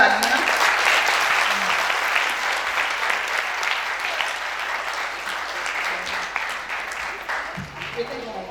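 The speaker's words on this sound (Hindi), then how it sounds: "जोरदार तालियां।" Loud, sustained applause from an audience at a meditation festival's experience-sharing session in India, a steady wash of clapping that eases off slightly before a voice speaks at the end.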